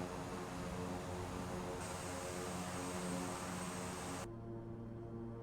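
A steady, droning light-aircraft engine hum during a flight over the Caribbean, constant and close, with a slight change in tone partway through.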